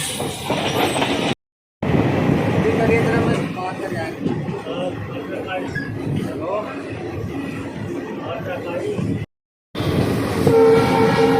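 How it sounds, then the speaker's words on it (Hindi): The Ramnagar–Chandigarh intercity express train departs Roorkee railway station, rumbling and clattering steadily, close and loud, with a horn sounding near the start and end and people talking underneath. "डिपार्चर करती हुई रुड़की रेलवे स्टेशन से रामनगर चंडीगढ़ इंटरसिटी"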